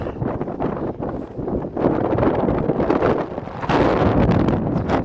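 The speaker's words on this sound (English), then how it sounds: "so windy now." Strong gusting wind at Lake of Glass on the Sky Pond Trail buffets the microphone with heavy rumbling bursts that rise and fall, growing louder toward the end.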